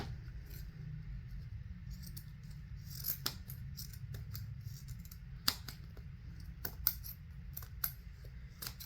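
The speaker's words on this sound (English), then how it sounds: "I need to get some different scissors for this" Faint scissor snips through corrugated plastic click now and then, several sharp cuts spaced irregularly over a low background rumble.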